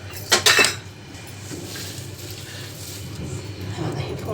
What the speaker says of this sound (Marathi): पुन्हा मग मी थोडी फोडणी घालून पुन्हा हलवते